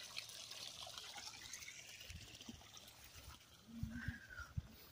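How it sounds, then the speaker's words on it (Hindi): Floodwater trickles and splashes out of a waterlogged rice paddy where seedlings are planted, a steady faint flow with a few louder low thumps and a brief whistling tone near the end. "पानी तो इधर से निकल रहा है देख सकते हो"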